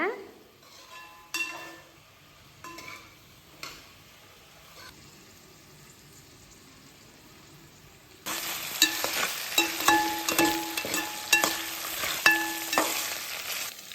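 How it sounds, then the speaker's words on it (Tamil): Raw plantain frying in oil in a pan for a pepper fry side dish, a steady sizzle with scattered clicks and scrapes of stirring, growing louder and denser halfway through, close and without speech. "கொஞ்ச நேரம் எண்ணெயில் அதே மாதிரி வணக்கிடுங்க"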